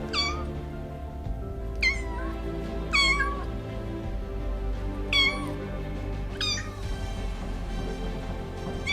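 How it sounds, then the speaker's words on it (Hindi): A cat meows five times at spaced intervals, high and plaintive, over a steady low background hum. "ये तो किसी बिल्ली की आवाज लगती है।"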